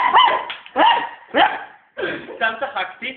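A dog barks in loud, close bursts about every half second, with a quicker string of barks toward the end, a voice calling mixed in.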